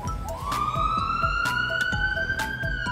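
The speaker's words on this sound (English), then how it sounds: "Shall we see what will happen when the emergency alarm is heard?" An ambulance's emergency siren wails and rises in pitch, loud and continuous, with rapid repeating pulses beneath the tone.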